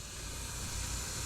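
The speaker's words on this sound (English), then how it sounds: "Intake's still leaking a little." Air leaks from the intake of a 5.3 engine, making a short, steady, close-up hiss with a low rumble beneath it.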